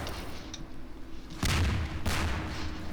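Explosion in Half-Life 2, a deep booming blast followed by a second burst over a rumbling game soundscape, moderately loud.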